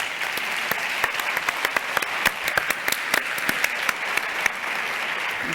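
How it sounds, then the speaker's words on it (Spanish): Applause from a conference audience at a diabetes event, a moderate wash of many hands clapping steadily, with a few sharper individual claps standing out. "Fuerte aplauso para Santi, por favor"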